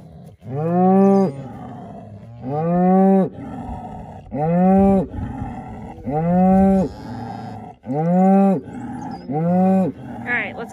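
Several cows moo loudly and close by, six long harmonic calls at steady intervals, as a farm herd with calves is moved out to spring pasture for its first grass of the season.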